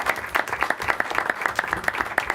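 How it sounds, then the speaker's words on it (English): Audience applause at a school board of education meeting honoring teachers, a brief burst of many hands clapping in quick uneven rhythm from a modest-sized crowd in an indoor room. "Give them a big round of applause."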